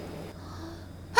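A person in a clinic sneezes once, a sharp loud burst at the very end after a stretch of quiet room tone, with the sneezing blamed on allergy.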